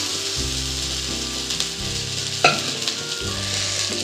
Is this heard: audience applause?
no